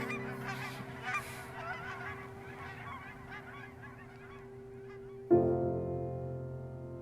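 Geese honking repeatedly, a cluster of nasal calls close by, then a sustained loud tonal note joins near the end.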